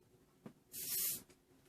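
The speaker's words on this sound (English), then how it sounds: "I'll spray this one too." A single sustained hiss of Polynesian Pink Sugar scented beauty spray lasting about half a second, close and fairly loud, after a soft tap, with no talking.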